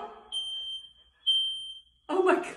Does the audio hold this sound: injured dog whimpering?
no